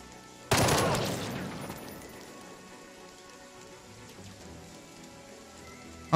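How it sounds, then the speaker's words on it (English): A gun fires a rapid burst in the tactical video game Jagged Alliance 3: one loud, sharp salvo near the start that decays into crackling debris, then a long stretch of quiet ambience. "Please burst fire this guy."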